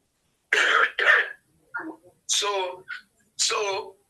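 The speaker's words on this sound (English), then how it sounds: "I have the malaria, so I'm coughing." Several harsh coughs and throat-clearing bursts in a row, close to the microphone, with brief pauses between them.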